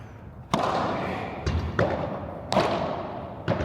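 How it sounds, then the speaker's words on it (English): A padel racket strikes the ball in a series of sharp, close impacts during an overhead training session, with about five distinct thwacks spaced roughly a second apart, each followed by a short decay. "This smash sounded really good."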